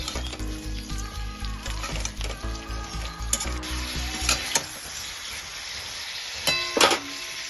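Silver carp curry with gandal leaves is stirred in a hot pan, steady sizzling under rhythmic scraping and clinking of a spatula for the first few seconds, then a quieter hiss with a few sharp clacks.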